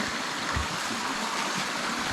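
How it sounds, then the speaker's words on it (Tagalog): A stream flows steadily somewhere outdoors, giving a faint, continuous watery hiss and trickle with no break over a couple of seconds. "Parang may tubig yan."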